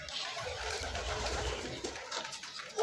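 Pigeons coo in soft, low, overlapping calls, with a hum of other bird noise around them, and the sound carries on steadily from start to finish with no voices.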